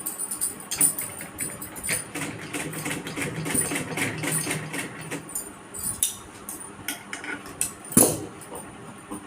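A sewing machine stitches a denim mobile cover made from old jeans, giving a steady close whirr that runs through the clip with light metallic clinks and a brief louder rattle near the end.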